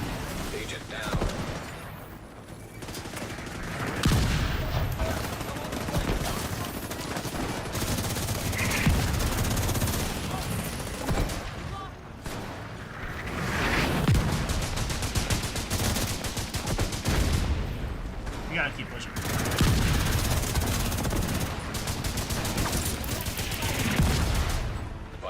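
Video game firefight on master difficulty with rapid, dense automatic gunfire and sharp sniper shots in sustained bursts, with short lulls between volleys and brief game voice lines over the action.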